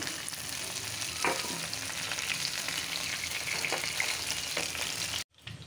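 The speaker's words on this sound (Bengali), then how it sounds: "মাছটা ভাজা হয়ে গেছে" Fish fries in hot oil with a steady, close sizzle and crackle, punctuated by a few scraping stirs, before cutting off abruptly near the end.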